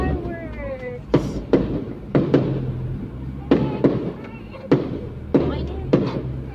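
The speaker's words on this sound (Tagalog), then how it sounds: "Wow, fireworks!" Fireworks burst outdoors at an evening gathering in Pampanga, a string of sharp booming cracks at irregular intervals, each with a short rumbling tail. Crowd noise and voices continue underneath the explosions.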